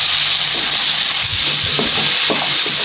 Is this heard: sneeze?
no